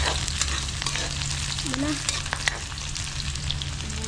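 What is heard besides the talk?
onions frying in a pan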